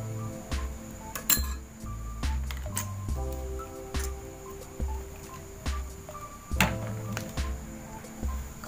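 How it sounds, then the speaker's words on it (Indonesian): Metal spoon clinking against a small bowl while measuring olive oil: light, bright taps and scrapes in an irregular rhythm, close and fairly quiet, with no talk. "di sini kita ambil 2 sendok makan minyak zaitun ya"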